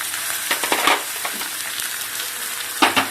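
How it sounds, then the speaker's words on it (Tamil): A tempering of curry leaves and asafoetida fried and stirred in a pan, a dense crackling sizzle with repeated spoon scrapes and clinks, loudest near the start and the end. "நல்லா பெரட்டி விட்டு கருக விடாமல் வதக்கி எடுக்கணும்"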